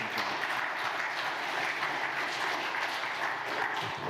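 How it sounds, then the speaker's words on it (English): Steady, even applause from a church congregation, a dense wash of clapping at moderate volume with no talking over it. "So please give them a round of applause"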